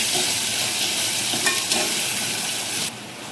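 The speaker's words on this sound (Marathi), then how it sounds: "कांदा एकदम लालसर झालाय. आता टोमॅटो टाकून घेऊ." Tomato sizzling loudly in a pan of browned onions while the pan is stirred, with a steady close frying hiss and a few faint scrapes, and the hiss drops suddenly near the end.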